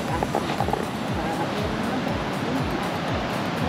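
Ocean waves roll onto a beach in Pangasinan, a loud, continuous roar of surf with low, repeated washes close by.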